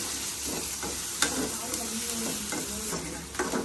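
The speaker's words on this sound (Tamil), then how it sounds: "பாருங்கள் வெங்காயம் நல்லா வதங்கிடுச்சு கோல்டன் ப்ரௌன் கலரில்" Onions fry in a pan with turmeric powder for a mutton gravy, a continuous close sizzle broken by repeated scraping stirs at an uneven rhythm, with no talk.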